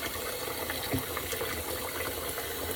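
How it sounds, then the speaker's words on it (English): Tap water runs into a sink while a pork roast is rinsed and trimmed for tamales, a steady, fairly faint splashing hiss with no talk. "Okay, that's enough water."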